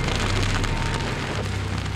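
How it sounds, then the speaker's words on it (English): A bushfire burns through dry savanna grass and scrub, a dense, steady crackling roar that fills the scene, loud and continuous with no voices. "The bushfire appears to devastate the scrub, but the animals take it in their stride."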